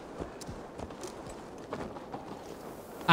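Horse hooves clip-clop in the video game Assassin's Creed Valhalla, a quick, steady run of soft thuds over low background game noise, moderately close, with no talk.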